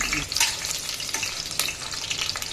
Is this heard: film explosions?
no